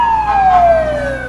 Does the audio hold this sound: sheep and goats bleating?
no